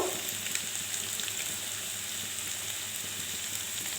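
Chickpeas and papaya fry in a pan with a steady, close sizzle that holds at an even level throughout, with no talking.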